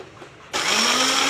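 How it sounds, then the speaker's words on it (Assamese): A mixer grinder starts up suddenly, grinding garlic, ginger, mustard seeds and chillies, and its loud steady whirring motor drone holds until the end. "মিক্সাৰ মেচিনত মই এয়া পিচি দিছোঁ"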